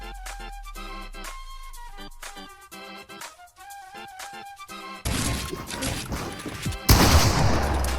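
Gunfire from a Fortnite match, a run of sharp repeated shots over steady game music, growing louder and denser near the end.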